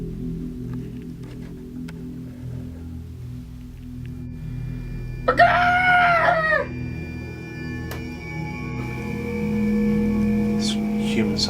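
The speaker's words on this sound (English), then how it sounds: "This human-sized chicken's freaking me out." A chicken crows once, loud and close, a drawn-out cock-a-doodle-doo lasting just over a second, with quieter clucks and game noise underneath.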